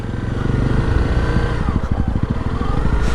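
A Honda CRF300L Rally motorcycle pulls wide open in third gear, its engine roaring loud and steady close to the mic with a rising, pulsing drone and no talk.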